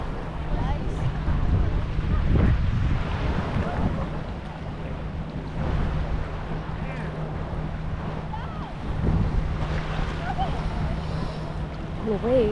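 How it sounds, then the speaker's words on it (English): Waves break on a rocky, thinly sanded shore at Princess Cay, a private Caribbean island, in repeated rushing surges over constant wind buffeting on the microphone, fairly loud and close. "The waves just knock you down."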